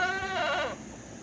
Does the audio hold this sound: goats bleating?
yes